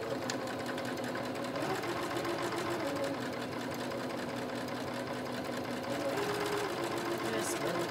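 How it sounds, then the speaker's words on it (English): A sewing machine runs in a steady, rapid mechanical whir with rhythmic clatter, close by and continuous, with a voice faintly in the background. "My sewing machine isn't too noisy, but I apologize."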